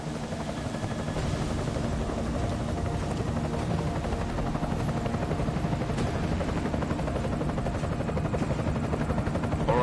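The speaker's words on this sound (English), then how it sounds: "Enemy helo sighted." An enemy helicopter approaches in Deus Ex Mankind Divided, its dense rotor thrum and engine roar building to a loud, continuous drone that fills the whole stretch without speech.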